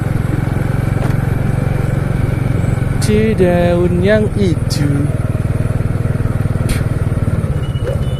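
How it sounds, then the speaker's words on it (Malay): A motorcycle engine drones steadily and close throughout the ride, with someone speaking briefly over it partway through. "Jalan lagi naik motor."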